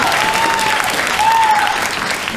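An audience at a comedy review show claps steadily and fairly loudly for a couple of seconds, a dense wash of applause with a faint tone running underneath.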